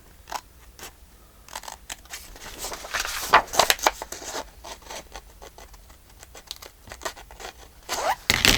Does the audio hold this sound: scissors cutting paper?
yes